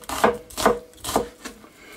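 Knife chopping red onions into strips on a cutting board for sweet-sour onion jam, four distinct thuds, near and fairly loud, with no talking.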